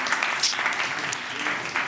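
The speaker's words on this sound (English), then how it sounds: "Another round of applause for Nout for courage" Audience applause for Nout at a circular fashion pitch demo day, a dense steady wash of many hands clapping together, held at an even level through the short stretch.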